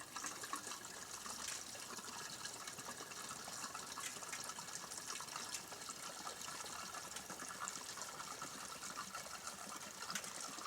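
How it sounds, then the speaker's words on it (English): Gasoline pouring from the nozzle of a Reda gas can made for motorcycle saddlebags, a faint, steady trickle and gush of liquid running into a tank, with a continuous watery hiss and no talk. "pull that nozzle down, and pour the sucker in."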